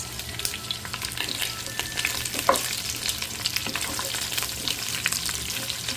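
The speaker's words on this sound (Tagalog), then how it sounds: "Ngayon ilagay naman natin ang ating sibuyas." Onions sizzle and fry in a pan with pork and garlic, a steady close crackle with frequent spatters and occasional stirring scrapes, no voices.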